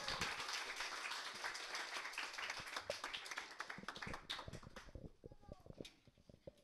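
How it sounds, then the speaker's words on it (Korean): A church summer Bible school audience applauds to welcome a speaker, a dense crowd of clapping hands that swells, then thins into scattered claps toward the end, with faint voices underneath. "큰 박수로 환영해 주시기 바랍니다."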